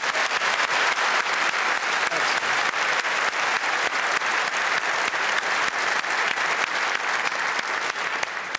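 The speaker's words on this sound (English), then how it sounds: "Applause for that." Sustained, dense studio audience applause on a television discussion programme, loud and even throughout with no pause, alone without talk.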